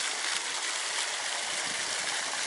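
Continuous rushing, splashing water from a fountain in Alanya, Turkey, fills the clip, a steady hiss of falling spray close by with no voices.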